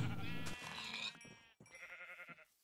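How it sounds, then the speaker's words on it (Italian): Sheep in Minecraft bleat in a few wavering calls with a brief break midway, close and clear over a farm-animal game scene. "tutte pecore!"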